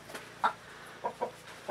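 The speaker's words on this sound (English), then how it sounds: "all of our hens are already getting ready to go to bed" Hens clucking in short, separate bursts, four or five soft calls spaced irregularly, fairly close, with a quiet background between them.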